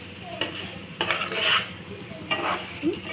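Gongura chicken stirred in a pot with a spoon, giving a few scraping, clattering strokes against the metal over a soft sizzle, close and moderately loud, with no voices.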